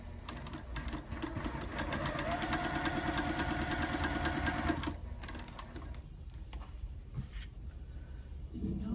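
A freshly oiled home sewing machine stitches in a fast, even run for about five seconds, then stops, leaving softer handling clicks and light rustle close by.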